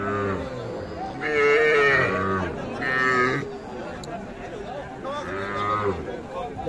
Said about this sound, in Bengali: দেখছেন এই পাশে এগুলো কিন্তু ছোট ছোট বাছুর।